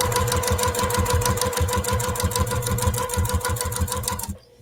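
Sewing machine stitching fabric at a rapid, even rhythm, a loud close mechanical whir with regular needle clatter that runs steadily and then stops abruptly at the end.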